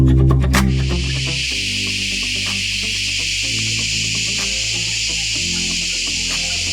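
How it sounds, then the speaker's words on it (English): A loud, steady, high-pitched insect drone fills the jungle near Vasota fort, with a low engine rumble beneath it. "This was the sound of insects making noise."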